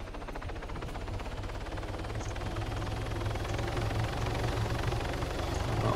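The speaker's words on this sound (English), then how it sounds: "Oh, there's another helicopter flying." A helicopter flies in the military video game Arma III, a steady low rotor drone that holds continuous and fairly loud across the whole stretch, with no talk over it.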